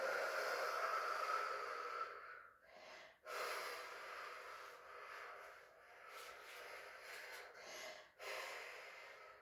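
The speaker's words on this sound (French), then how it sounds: "Et on expire." A steady breathy exhale during an abdominal breathing exercise, a long soft hiss of air that swells and fades, with short pauses and fresh breaths in between, close and fairly quiet.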